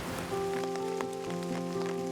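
Rain falls on leaves along a mountain trail at Songnisan, a soft patter of drops heard up close, while a steady tonal hum runs beneath it.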